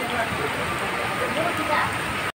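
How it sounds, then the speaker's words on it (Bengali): Rain pours steadily at an outdoor pigeon market, a dense, even hiss of drops on surfaces close by, continuous until it cuts off abruptly. "মাশাল্লাহ খুব সুন্দর বৃষ্টি আসছে"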